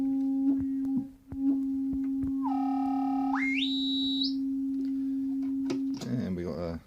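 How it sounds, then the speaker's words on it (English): A sine wave run through an Erica Synths Polivoks VCF II filter module, heard as a steady low tone with a resonant whistling partial that sweeps upward in steps. It ends in a brief burst of buzzier tone. "Try a sine wave."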